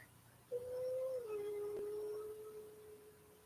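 A dog lets out a single sustained howl that starts higher and slides down to a steady, drawn-out lower tone lasting a few seconds, fairly close and clear over a quiet indoor background.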